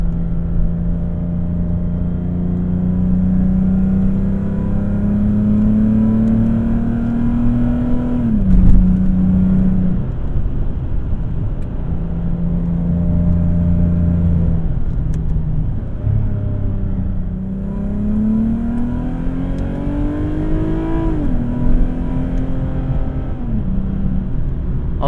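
A 2006 Lexus IS350 pulls hard with a loud, close engine note that climbs through the revs, drops on a shift and climbs again, a steady roar with no talk over it.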